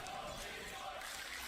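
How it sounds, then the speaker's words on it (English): A large arena crowd at The International 2022 Dota 2 tournament cheering and roaring, a dense, continuous wash of voices that swells slightly and holds steady throughout. "Oh, the crowd's starting to get into it a little bit here."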